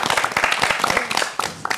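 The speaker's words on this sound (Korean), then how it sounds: "박수 한 번만 해줘." A small group claps in a short burst, uneven close-up hand claps mixed with lively voices and laughter in a casual setting.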